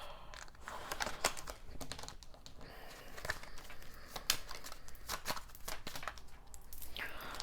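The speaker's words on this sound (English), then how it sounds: "I've been shuffling for too long." Tarot cards are shuffled in a quiet room, a run of soft riffling and papery crinkles broken by sharper snapping clicks at irregular intervals, close and fairly faint, with no talking.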